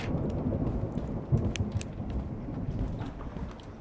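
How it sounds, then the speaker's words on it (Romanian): Rain and rumbling thunder in a video game level, a steady broadband wash of rainfall with low rolling rumbles and a few sharper crackles, continuous and fairly loud throughout. "E interesant nivelul ăsta că plouă."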